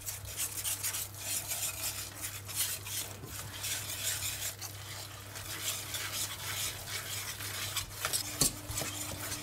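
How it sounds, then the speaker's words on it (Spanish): A whisk mixes choux pastry dough of flour and melted butter in a pot over medium-low heat, giving a soft, continuous scraping and stirring with small metallic taps against the pot, fairly quiet and with no talking. "Con unas varillas y rápidamente vamos a ir mezclando hasta que no quede ningún grumo"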